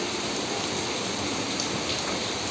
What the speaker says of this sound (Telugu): కుండపోత వర్షం కురుస్తుంది.